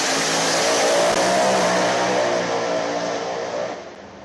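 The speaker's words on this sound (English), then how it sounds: "that Mustang is rolling now. Newcomb's car is really fast. Twin turbo deal, just it rolls out the back." Twin-turbo Mustang drag car pulling out at the strip, a loud sustained engine roar that stays strong and then fades slightly toward the end, with no talking.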